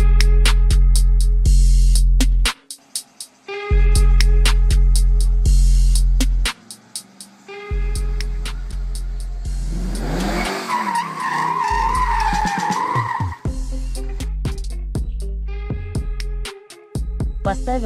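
Loud, close revs from a Mercedes C63 AMG W204 with a naturally aspirated engine, aftermarket headers, carbon intake, rear differential lock and a tune, blipped repeatedly in sharp bursts with brief cutoffs, then a sustained roaring run with tire noise in the middle.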